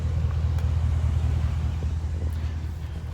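Interior cab noise of a pickup truck riding on small balloon tires, a steady low rumble with faint wind noise and no speech.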